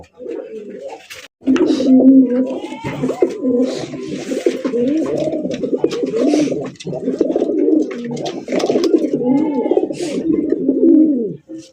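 A male Gola pigeon coos at a village pigeon sale, with rhythmic throaty repeated coos close and loud, continuing almost without pause across the stretch.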